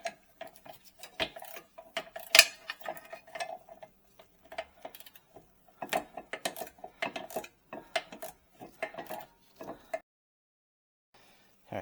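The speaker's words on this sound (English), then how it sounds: "not a lot of room to swing the socket wrench back here" A socket wrench ratchets on a rear brake bolt of a 2018-2022 Chevy Equinox in bursts of quick metallic clicks, separated by short pauses and shifts of the tool, close and fairly quiet.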